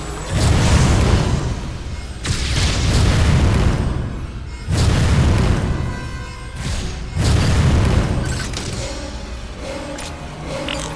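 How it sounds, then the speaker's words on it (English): Repeated explosions from blasting the eruption port in Metroid Other M: four loud, deep booming blasts spaced a couple of seconds apart, each followed by a rumbling decay. "Samus, blast the eruption port to get the magma flowing."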